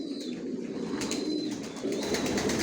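Afsan grizzle racing pigeons coo softly in a loft, a low continuous murmur of several birds close by, with a few thin higher calls above it.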